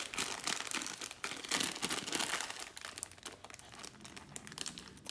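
Plastic chocolate chip bags being slit with a knife and ripped open, giving dense, loud crinkling and crackling that runs almost continuously, with bursts of sharper tearing noise early on.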